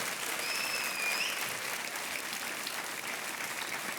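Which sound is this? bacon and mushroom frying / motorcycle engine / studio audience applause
studio audience applause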